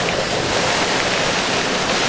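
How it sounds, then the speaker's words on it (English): Strong hurricane winds during Hurricane Dennis in 1999 roar continuously with crashing surf, a dense, unbroken wall of wind buffeting and surging waves at steady high loudness. "It's getting really windy now,"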